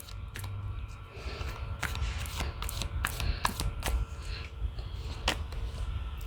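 Tarot guidance cards are shuffled and drawn by hand, with irregular soft snaps, flicks and papery rustles close by over a low steady hum.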